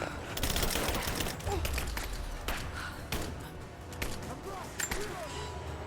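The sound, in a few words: shrapnel grenades exploding in video game Rise of the Tomb Raider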